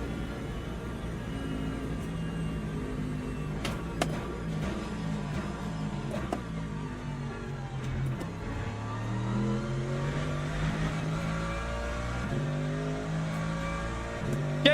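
Lamborghini race car on track in Le Mans Ultimate, engine revving up and down through gear changes with rising and falling pitch sweeps, moderately loud and continuous with no talk.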